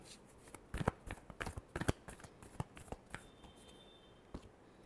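Tarot cards being shuffled by hand during a love reading: a run of crisp, irregular riffling flicks and soft card slaps, fairly close and quiet, with a faint steady tone entering near the end and no talk.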